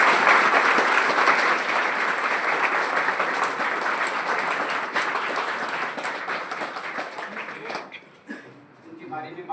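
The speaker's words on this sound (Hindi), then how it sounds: "एक बार उनके लिए जोरदार तालियों" Audience applause at a Hindi-language retirement farewell ceremony, dense steady clapping from a crowd for about eight seconds before tapering off quickly at the end.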